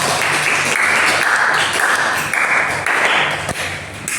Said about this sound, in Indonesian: Kita berikan aplaus dulu kepada Kamila